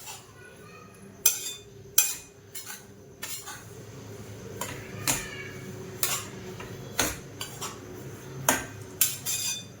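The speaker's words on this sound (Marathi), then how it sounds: "सारखं रव्याला आहे ना सारखं हलवावं लागतं" Dry semolina roasting in a pan for rava laddoos is stirred with a metal spoon, producing a steady series of sharp clinks and scrapes against the pan at an irregular rhythm, close and moderately loud over a faint background.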